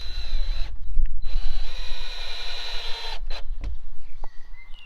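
A power drill drives screws into wooden boards of a garden raised bed, giving two close, loud bursts of high whirring with short pauses and a clunk between them.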